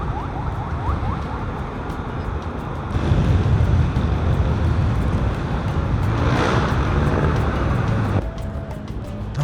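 Dense road traffic heard from inside a car, a steady broad rumble of engines and tyres with a louder swell midway and faint tonal hints near the end.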